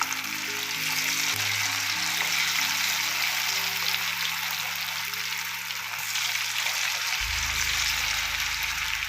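Cauliflower pieces deep frying in hot oil make a constant bubbling sizzle, with a low hum shifting underneath and a rush of fresh hissing near the end.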